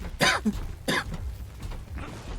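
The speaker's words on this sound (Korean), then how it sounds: "기침을 하시네" A person coughs and clears their throat in two short, harsh bursts close by, followed by a softer rasping sound.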